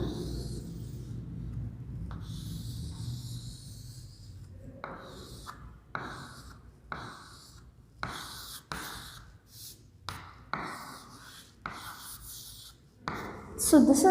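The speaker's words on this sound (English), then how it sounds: "Let me write the diagram here." Pen or marker strokes while drawing a diagram of the animal kingdom: a series of short scratchy strokes, close and moderately loud, starting about halfway through after quieter room noise, with no talk.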